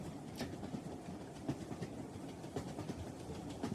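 Train rolling along tracks as a background sound effect, with a steady moderate rumble and faint rhythmic clicks and knocks of the wheels.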